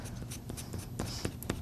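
An ErgoSoft colored pencil shades dark strokes on paper in quick, close, scratchy bursts, a soft repeated rasp with no talking.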